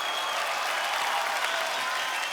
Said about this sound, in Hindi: लेकिन ये तालियां जैकी जी के लिए बजाइए